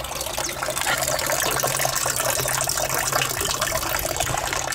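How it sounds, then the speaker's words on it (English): Water gushing steadily out of a polytunnel gutter outdoors at an allotment, a continuous close splashing flow that stays loud and even from start to finish. "Got a nice flow of water coming out."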